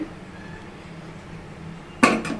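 A lid set down onto a pot of simmering fish gravy curry, one clear metallic clank followed by a quick lighter rattle, near and loud after a quiet stretch.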